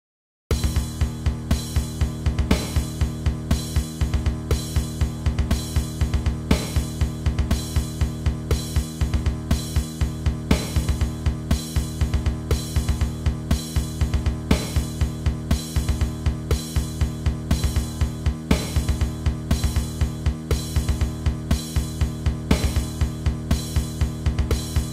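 A slowed-down metal drum pattern with steady quarter notes, a snare backbeat and crash cymbals. It repeats in a dense, even rhythm for the whole stretch, with no talking.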